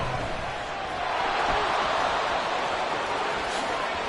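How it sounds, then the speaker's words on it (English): Steady roar of a stadium crowd at an NFL American football game between the Patriots and Washington, a dense continuous wash of cheering noise swelling slightly after the first second, with no clear speech on top. "This crowd making it hard to hear."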